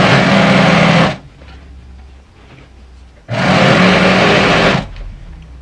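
A home sewing machine stitching a skirt seam runs in two loud, close whirring bursts of about a second each, separated by a short quiet pause.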